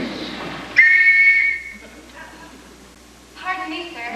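A clear whistle is blown once, a steady shrill tone that lasts under a second and is followed by quieter speech and room sound.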